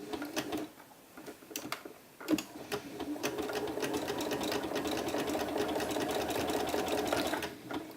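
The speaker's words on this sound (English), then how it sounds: "make sure that stretch stitch is on, and we're just going to stitch our neckband down." A sewing machine running a stretch stitch to sew down a knit neckband, starting with a few brief needle bursts and then a continuous rapid mechanical whir close by.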